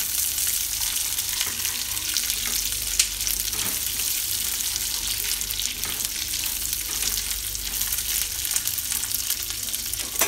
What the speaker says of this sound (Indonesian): Oke, kita goreng dulu ini kacangnya.